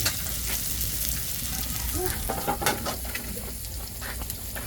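Garlic and ginger sautéing in a hot wok: a loud, dense, continuous sizzle with crackling and scraping stirs, close up, faint background chatter.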